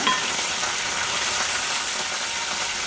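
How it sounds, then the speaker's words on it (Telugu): Dense, crackling sizzle of seeds hitting hot oil, loud and close, a constant spattering hiss with no voices. "ఇప్పుడు ఈ తాలింపు గింజలు అయితే నూనెలో వేసేసుకోవాలి"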